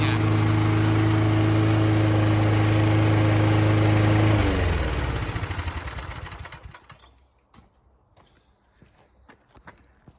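A Mountfield Empress 16 lawn mower engine runs loud and steady up close, then slows and sputters to a stop, leaving faint knocks and light handling noises.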